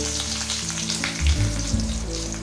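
Fennel seeds and curry leaves fry in hot oil, producing a close, steady sizzle and crackle with a few louder spits partway through, alongside a low background hum.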